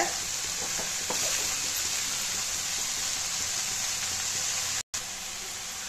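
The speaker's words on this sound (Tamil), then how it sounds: "இதை நல்லா சுருண்டு வர அளவுக்கு எண்ணெயிலே வதக்கி விடுங்க" Spinach sautés in oil in a pan over a high flame, a continuous hissing sizzle with faint stirring clicks, fairly quiet and steady, with a brief dropout near the end and no talking.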